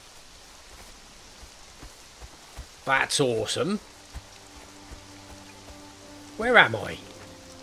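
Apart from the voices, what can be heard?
rain falling in a video game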